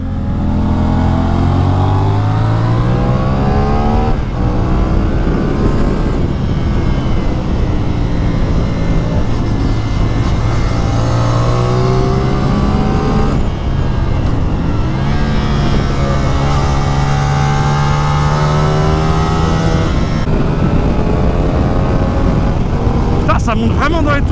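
A motorcycle on a race circuit revs high through repeated climbing gear pulls, with a loud, continuous engine whine rising and dropping between shifts and a voice talking over it.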